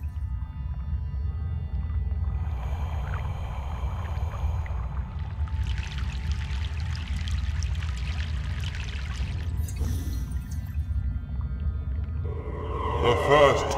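Crossing a river in Broken Sword 3: The Sleeping Dragon, with a low, steady watery rumble, a pouring, splashing wash that swells midway, and a brief burst near the end, and no voices.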